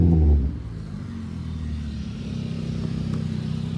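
A car engine gives a loud, rough rev at the start, then settles into a steady, close rumbling idle that holds to the end, with no talking.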